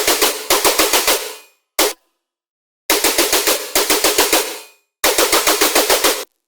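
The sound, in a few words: Serum synth bass layer: saw wave, second oscillator, noise, reverb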